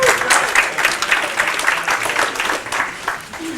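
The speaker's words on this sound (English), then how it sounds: "Yes, we can clap again if you'd like." An audience at a community flood recovery forum gives a steady round of applause, many hands clapping at once in a moderately loud, even patter.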